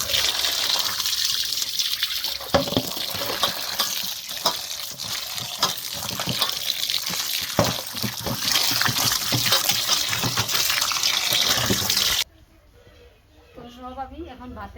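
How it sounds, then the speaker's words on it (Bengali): Gourd leaves, beans and potatoes are washed in water outdoors in a village, with continuous splashing and sloshing, then the water stops and faint birdsong and background voices remain. "লাউ পাতা, সিম, আলু বেছে নিয়েছি, এখন ধুয়ে নিয়ে আসি।"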